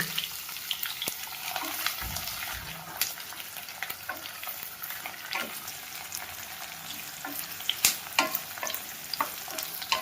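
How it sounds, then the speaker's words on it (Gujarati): Onions sizzle and fry steadily in a pan for a Gujarati val shaak gravy with cinnamon, cloves and star anise, with occasional scrapes and clinks of stirring throughout. "આપણે આ ડુંગળી નાખી દઈએ છીએ ત્રણ ડુંગળી કાપી છે"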